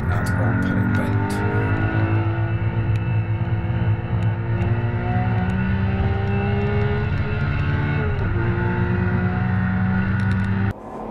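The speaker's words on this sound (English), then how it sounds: "have a listen to the revs on both cars as they go around the right-hander at Old Paddock Bend" Porsche 991.2 GT3 and Lotus Evora GT430 engines hold high revs through a right-hand bend on a race circuit, a loud, sustained, flat-out mechanical drone with shifting pitch, heard close for about ten seconds before an abrupt drop.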